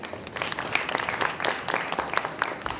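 Audience applause greets Lauri, founder of Digivice, at an early-stage growth and angel investing event; steady, moderately loud clapping from a crowd with dense overlapping claps and no voices.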